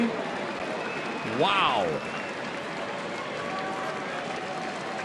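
Baseball crowd in a stadium applauding and cheering a home run to the third deck, a broad steady roar of clapping and cheers, with a commentator's brief exclamation over it.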